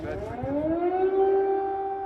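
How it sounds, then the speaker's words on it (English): Air raid sirens wail across Kyiv, a loud sustained civil-defense tone that rises in pitch and then holds steady, with a rumble of background noise beneath. "air raid sirens continued to ring from night into the morning"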